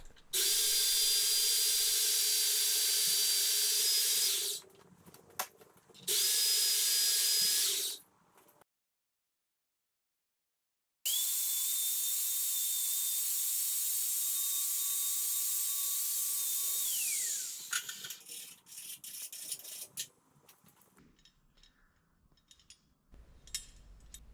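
A power saw cuts steel for fixture table clamps in several loud, sustained bursts: two shorter cuts, a pause, then a longer cut that winds down into scattered clanks and shop noise, all close and without speech.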